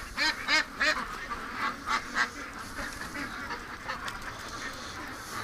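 Muscovy ducks in a pen give a run of raspy honking quacks, several bursts in quick succession near the start and then sparser calls, fairly close and alone with no talk.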